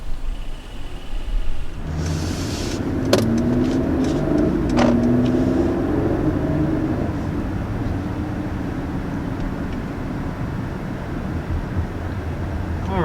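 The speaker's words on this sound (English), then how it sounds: "we just got a little short initial takeoff here in the GLS, but power is definitely feels really good right from the start there" A 2020 Mercedes GLS mild hybrid SUV pulls away from a start, its engine rising into a steady, sustained roar after a quiet opening, heard from inside the cabin and holding loud for several seconds.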